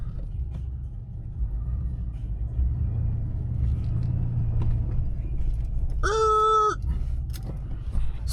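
A pickup truck on a road test after a brake repair and bleed, its engine and tyres rumbling steadily up close, with a brief harmonic whine or squeal around the sixth second.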